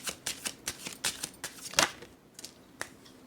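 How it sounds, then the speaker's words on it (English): Tarot cards being shuffled and drawn from a deck, a quick series of soft riffling flicks and snaps, close and fairly quiet. "I need to pull more cards out of this deck"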